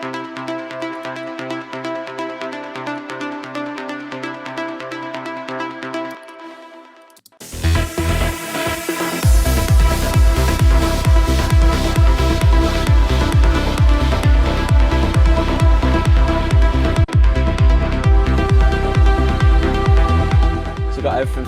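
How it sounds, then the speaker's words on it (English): A plucked synth from an Access Virus sits in a trance remix: sustained harmonic tones first, then a loud full mix with a driving kick and rapid, evenly repeating plucks. "there's this pluck that comes in from the virus"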